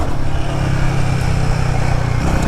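Royal Enfield Guerrilla 450 single-cylinder motorcycle ridden in sport mode, a steady loud engine drone with a deep low thrum held throughout, no voices over it.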